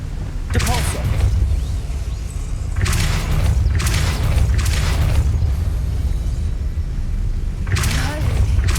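Depulso force spell cast in Hogwarts Legacy, a series of loud thumping blasts and whooshes recurring every second or so over a steady, rumbling game soundscape.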